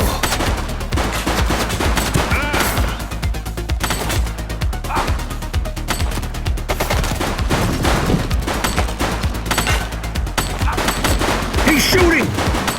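Dense gunfire in the police video game The Precinct on PS5, rapid automatic bursts and sharp shots crackling almost continuously, loud and close, with busy game sounds layered around them.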